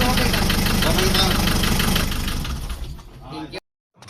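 A Hyundai Starex van's D4BH diesel engine, whose timing belt has snapped, runs loud and close with a rough, busy clatter. It fades over the last second, cuts out abruptly, and a voice seems to be heard over the noise.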